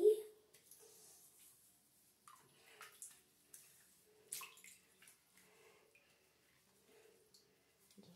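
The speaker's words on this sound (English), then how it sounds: "I'm just gonna rinse you off real quick" Water splashing softly in a bath while a child is rinsed off, with quiet intermittent splashes and drips and faint talk near the microphone.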